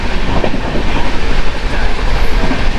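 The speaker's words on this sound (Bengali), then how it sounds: "ট্রেন অলরেডি এখন কিন্তু ছেড়েও দিয়েছে" A passenger train on the Howrah to Jasidih run rolls along steadily, its rhythmic clickety-clack and dense rumble filling the scene with no voices over it.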